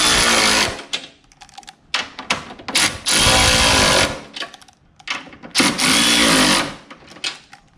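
Power tool tightening strut bar bolts on a turbocharged 8th-generation Honda Civic Si, with repeated loud close bursts of buzzing rattle alternating with brief pauses.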